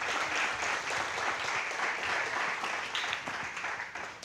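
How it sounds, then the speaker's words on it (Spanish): A church congregation applauds during a Spanish-language sermon, a dense, sustained patter of many hands clapping at moderate distance, tapering slightly toward the end. "¿Alguien le da un aplauso al Señor por eso?"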